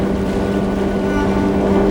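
A motorboat in a bay gives a steady motor drone with a low hum, close and constant, with some wind noise over the microphone.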